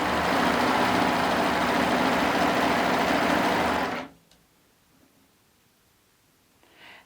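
A coverstitch machine runs loud and steady, whirring as it sews fabric for a scarf, then stops abruptly after about four seconds, leaving near silence and a faint shuffle at the end.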